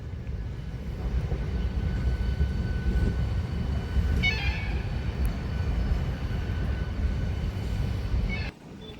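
MEMU local train at a railway platform, a steady rumbling drone of the carriages with a brief high squeal near the middle, cutting off abruptly near the end.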